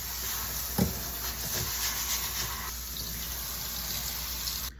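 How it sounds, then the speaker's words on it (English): Long grain rice being washed in water, a steady wet swishing and rubbing with running water throughout, close and fairly loud, with a brief knock partway through. "let's start by washing the rice first"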